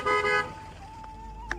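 Cars moving through a mosque parking lot in Selden, New York: a short honk opens, then a car passes with a faint engine hum and a brief toot near the end, all fairly close.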